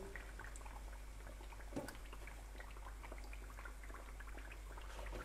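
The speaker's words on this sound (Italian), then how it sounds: "metto a friggere i secondi" Calabrian turdilli pastries fry in hot oil, giving a steady bubbling sizzle with scattered crackles and one brief louder clatter partway through, close by and with no talking.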